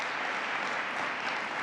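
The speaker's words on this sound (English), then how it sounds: "Let's give another round of applause to Mayor Ben Walsh." Steady, dense applause from an audience at a New York state STEM education event, continuous and evenly loud across the whole stretch.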